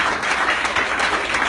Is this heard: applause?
yes